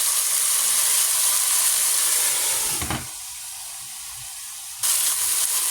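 Chicken browning in a skillet gives a steady, close sizzle with hiss and crackle, briefly dropping quieter for a couple of seconds midway before returning at full strength.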